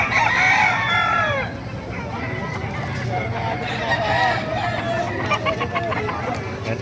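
Chickens and roosters at a poultry market in Bocaue, Bulacan, including Black hens, with a rooster crowing loudly up close at the start, then steady clucking and honking fowl around a crowded, noisy background.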